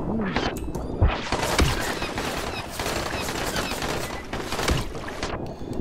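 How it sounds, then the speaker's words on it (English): Rapid bursts of automatic gunfire and booms from the zombie survival video game Dying Light, loud and dense over several seconds, with faint voices mixed beneath. "I hear guns."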